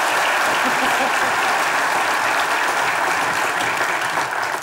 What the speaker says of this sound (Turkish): Hacı'nın yakışıklılığına bir alkış almak isterim yani açıkçası.